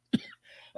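A single short, sharp cough followed by a softer breathy rasp, close and quiet, with no talk.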